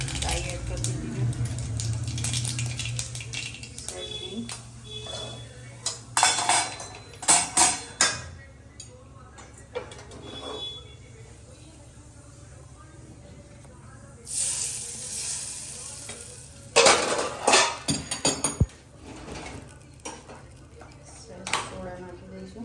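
Mustard seeds tossed into hot oil for a Gujarati-style tempering crackle and hiss in short bursts, with clinks of utensils and pans around them and a voice talking at times.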